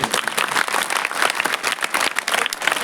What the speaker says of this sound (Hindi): फिर तालियां बजाओ अपने टीचर